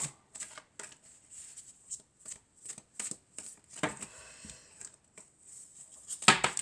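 Triade oracle cards are shuffled by hand nearby, giving a soft, rhythmic series of papery slaps and flicks that ends in a sharper snap.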